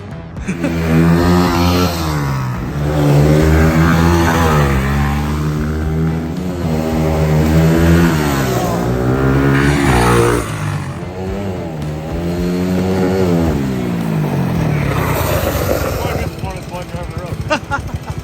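A Honda XR100 engine fitted in a CRF150R big-wheel dirt bike, run with the choke partly on, revs up and down repeatedly. Its buzzing tone climbs and falls in loud, close swells.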